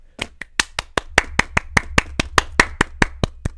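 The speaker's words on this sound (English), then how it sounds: "I can't crouch and clap at the same time." Hands clap about seventeen times in an even, brisk rhythm, each clap crisp and close, with nothing else heard, in a video game.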